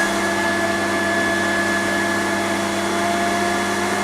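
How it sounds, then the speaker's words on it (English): A water pump whirs steadily while pressurising a plumbing system on a rural olive farm, a constant close hum with a faint tonal whine and no breaks, alone without talk. "You can hear the pump whirring away."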